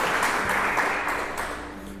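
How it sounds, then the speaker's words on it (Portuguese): A church congregation applauds during a sermon, a steady wash of clapping that fades slightly toward the end, with no voices on top. "Aplaude o Senhor."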